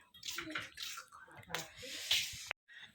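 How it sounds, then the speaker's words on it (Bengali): Water poured into a jug indoors in a modest tin-walled home at night: a close, splashy, gurgling pour that runs for a few seconds, with faint voices nearby, before it cuts off abruptly. "জগটার মধ্যে জল এনে রাখি"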